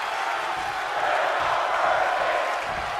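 Capacity crowd cheering in a WWE 2K23 wrestling arena, a steady broadband roar that swells slightly in the middle and carries on without a break.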